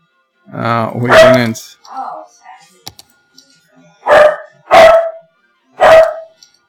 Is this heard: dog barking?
yes